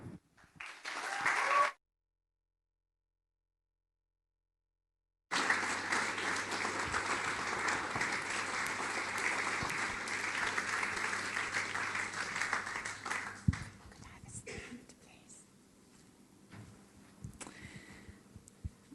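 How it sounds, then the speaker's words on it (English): Audience applause welcomes a performer named Lou Cosmo onto an evening stage, a broad sustained wash of clapping that swells in, holds for several seconds, then thins out toward the end after a brief earlier burst. "please put your hands together, a huge, rapturous round of applause"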